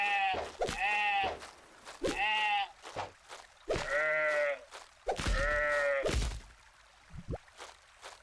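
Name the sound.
sheep bleating in a video game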